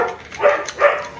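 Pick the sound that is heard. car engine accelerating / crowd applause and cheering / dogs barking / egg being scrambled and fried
dogs barking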